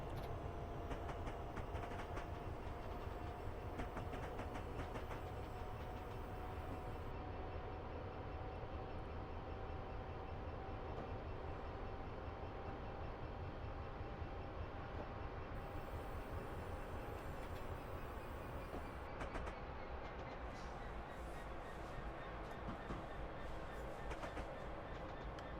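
Train running on rails on a suburban Glasgow to Airdrie line, recorded from inside the cab: a steady, loud rumble and rail noise continuing throughout with a faint whine, and no talking.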